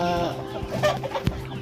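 Shamo chickens on a rural Philippine farm cluck repeatedly and close by, short irregular calls over a steady low background hum, with no one talking.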